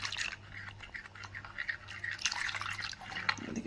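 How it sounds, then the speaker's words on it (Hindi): Water pours into flour for a batter slurry, a soft splashing trickle that runs steadily for a few seconds with no talk over it. "इसमें मैं ये पानी डालूंगी तकरीबन आधी प्याली और इसकी मैं स्लरी सी बना लूँगी।"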